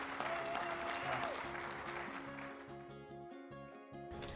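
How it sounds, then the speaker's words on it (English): A crowd at a CHA board meeting in Chicago claps and cheers in a sustained burst of applause, heard under steady background music with a prominent melody and beat. "clap your hands and make some noise out here"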